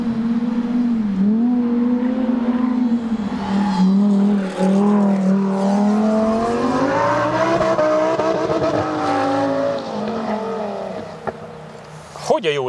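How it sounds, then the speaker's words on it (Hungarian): A car driven fast at the limit on a race track drones with a rising and falling engine note and tire squeal as it corners, heard under a voice talking. "mert nem megy rosszul egyébként a Csabi, tehát határon egész jól autózik."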